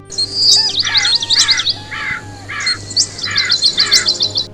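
A crow caws repeatedly in close, loud bursts of harsh calls, two rapid series of several caws each with a short gap between, set against a steady low background hum.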